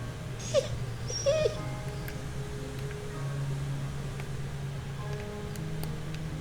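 Dog whimpering in the video game Into a Dream, two short high whines early on, then a quiet low hum of game ambience with faint scattered clicks.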